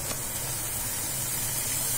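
Jackfruit curry frying in masala with a steady, broad sizzling hiss that holds even and close throughout, with no talking.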